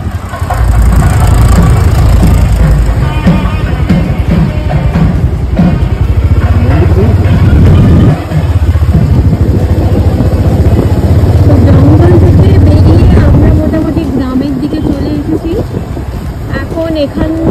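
Motorbikes and cars pass along a rural village road near Vatadahosahalli Lake, a loud, steady engine rumble and road roar filling the whole stretch, with a voice talking over it.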